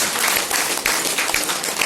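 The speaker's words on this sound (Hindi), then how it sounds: "दोनों हाथ ऊपर उठाकर ताली बजाकर इसका समर्थन करें।" An audience claps at a political speech in Govindpura, dense continuous applause at moderate volume, heard alone for a couple of seconds.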